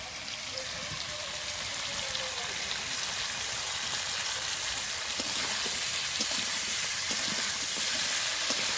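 Chopped tomato hits hot oil in a pan with fried cauliflower and potato, a loud, steady, close sizzling hiss that stays broad and continuous, with faint clicks underneath.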